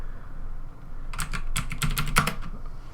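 A stock ticker being typed on a computer keyboard: a quick run of about eight crisp key clicks in a short burst, close and clear over quiet room noise.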